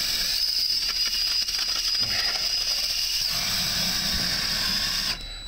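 Battery-powered Clam ice auger boring through thick ice, a steady high mechanical whine and grinding hiss running loud and continuous, with the tone deepening and a brief drop near the end.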